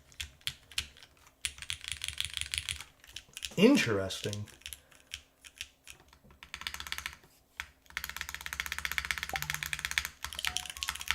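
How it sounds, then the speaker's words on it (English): A newly built MANTA mechanical keyboard clacks under fast, close typing in several bursts, with one short spoken word between the runs of keystrokes. "Sounds like a R6 champion rank keyboard"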